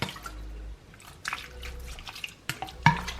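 Lemon juice poured over raw seafood such as shrimp before washing: a few brief, close drips and light splashes of liquid over a quiet background, with no talking.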